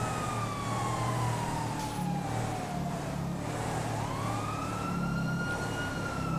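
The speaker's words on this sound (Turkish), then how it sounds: "Gugu, bu sirenleri bir susturun, korna basmasınlar." A video game siren in GTA 5 wails, sweeping down and then back up in pitch over a steady low rumble of convoy engines, continuous and fairly loud with no talking.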